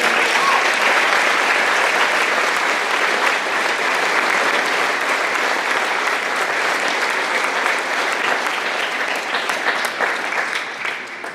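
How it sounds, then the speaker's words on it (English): Sustained, loud audience applause at a school graduation ceremony, dense clapping from a large crowd that holds steady throughout and eases slightly toward the end. "please join me in giving her a warm round of applause"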